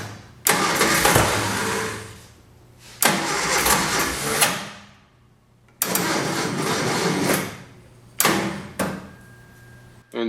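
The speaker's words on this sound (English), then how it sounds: "this is where the starter motor gave up" A 1966 Triumph Spitfire MK2's starter motor cranks the engine in four loud bursts, the first two long and the last two shorter, with gaps of near silence between them and no voices.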